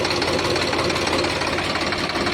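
A Swaraj 735 XM tractor engine runs steadily nearby with a dense, rough diesel chug and knocking clatter, an even unbroken drone with no voices.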